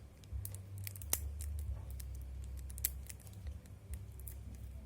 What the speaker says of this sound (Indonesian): Saya nggak ada gunting kecil lagi nih.